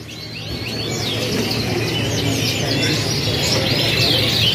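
A bright-coloured loper canary sings close and loud in a continuous run of rapid chirps and trills, rising in strength after the first second and holding steady.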